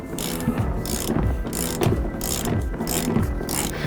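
Repeated ratchet clicking in close, steady bursts as seat bolts are broken loose and backed out inside a 2003-2007 Ford F-250 crew cab truck, with no talking.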